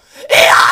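A vocal scream demonstrated during a screaming lesson, rising briefly as a strained groan before bursting into a loud, harsh, sustained scream, close and alone.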